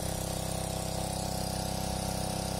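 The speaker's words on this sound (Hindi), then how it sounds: "होंडा का पंप है तो बहुत ही अच्छा है तो प्योर पेट्रोल पंप है" A Honda WB-15X 1.5 hp petrol water pump engine runs at a steady, loud, even drone with a constant throbbing hum and no change in speed.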